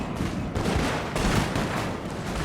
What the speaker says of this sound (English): it's just non-stop firing now from the British